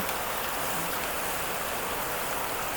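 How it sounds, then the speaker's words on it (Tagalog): Steady, heavy rain pours down, a dense continuous hiss of water with no pauses or voices. "sana po marinig nyo ako, ang lakas ng ulan"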